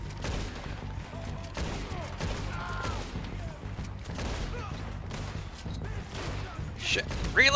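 Gunfire from Red Dead Redemption 2 crackles as a steady, scattered fusillade at moderate distance, with a few sharper bursts near the end under a busy game soundscape.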